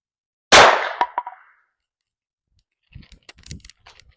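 A .22 revolver loaded with Winchester Super X fires once through half-inch OSB board: a single sharp, loud crack with a short ringing tail and a quick metallic click just after, followed by faint handling clicks and rustles.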